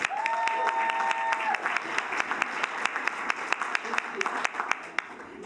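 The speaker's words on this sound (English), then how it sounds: "So please also give them a round of applause." Crowd claps for a district team at a campaign rally, a steady wash of applause with sharp individual claps standing out, a faint tone heard early, tapering slightly toward the end.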